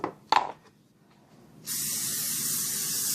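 A steady, loud hiss of a spray can held down continuously for over a second on an old Corningware baking dish, following a couple of brief clunks and handling sounds.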